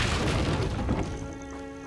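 A Confringo spell explosion in the video game Hogwarts Legacy, one heavy booming blast that quickly fades into a ringing tail.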